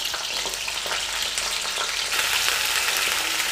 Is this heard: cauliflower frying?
yes